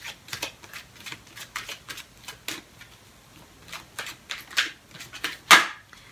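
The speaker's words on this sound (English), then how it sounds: "let's pull a Romance Angels card for you guys" Romance Angels oracle cards being shuffled and pulled, producing a close, quiet run of irregular papery riffles and taps with a sharper snap near the end, no voices.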